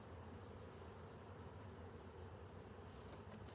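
Honey bees at an open hive, their steady buzzing drone close and continuous.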